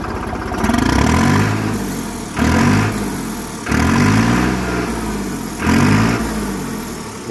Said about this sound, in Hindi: बहुत ही शानदार जो है ट्रैक्टर जो है साउंड कर रहा है